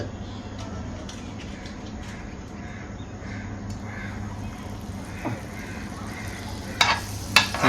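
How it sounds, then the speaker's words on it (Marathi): Butter sizzling and being stirred in a fully heated pan while cooking paneer ghotala, a steady frying hiss throughout with a few sharper scrapes and clatters near the end, no talking. "आता याच्यामध्ये आपण ॲड करूया बटर"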